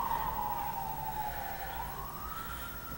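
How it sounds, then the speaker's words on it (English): Emergency vehicle siren outside, a steady wailing tone slowly falling then rising again, heard from a distance through walls, loud enough to fill the room with no talk over it. "That's some sirens outside."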